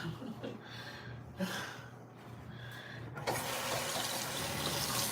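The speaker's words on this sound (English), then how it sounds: "and rinse the bath out." Water runs steadily from a tap while a bathtub is rinsed out during bathroom cleaning, a constant rushing hiss that grows louder and fuller partway through, with faint movement in the background.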